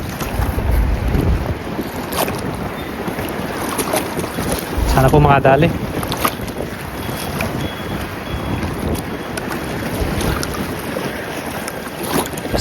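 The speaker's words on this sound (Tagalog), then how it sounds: "Lakas po ang hangin." Strong wind roars and buffets the microphone continuously at an outdoor fishing spot, a dense rushing noise throughout, with a brief spoken remark partway through.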